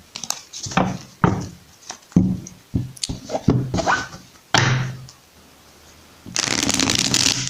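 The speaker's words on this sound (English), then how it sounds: "Let's shuffle this 3 times" Several quick riffles and taps of playing cards being shuffled, with short pauses between bursts and a longer riffle at the end.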